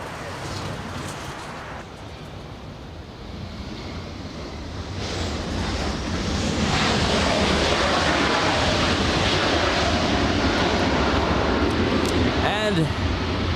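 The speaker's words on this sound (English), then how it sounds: "We have Alaska 13006 flying in from Seattle, Washington, a 2-hour, 5-minute flight." An Alaska Airlines jet arriving at LAX after a flight from Seattle, heard as a broad steady engine roar building from distant to loud and sustained, with wind noise across the whole stretch.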